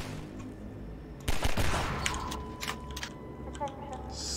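Gunfire in the video game Half-Life 2, played on easy: a short cluster of sharp shots near the middle, then scattered lighter pops, under someone speaking German.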